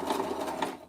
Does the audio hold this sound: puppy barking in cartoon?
no